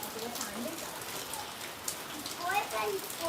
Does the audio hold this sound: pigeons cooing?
no